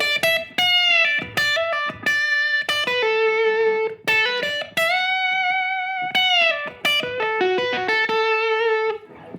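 Electric guitar playing a southern-rock lick, clean-toned picked notes with bends and sustained held tones, close and clear, no talking.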